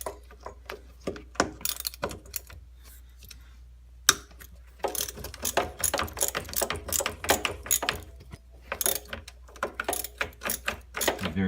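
A ratchet wrench clicks steadily while loosening a 13mm bolt on the underside of an idler wheel. Bursts of rapid pawl clicks come close and loud, split by short pauses and a sharp knock, with no speech.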